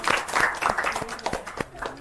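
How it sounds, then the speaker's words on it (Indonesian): A small group in a primary school maths class claps, a few scattered hand claps in loose, uneven bursts rather than full applause, fairly close and without talking. "Tepuk tangan dulu buat semua rekan-rekan."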